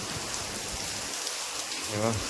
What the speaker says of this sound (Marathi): फुल पाऊस पडतोय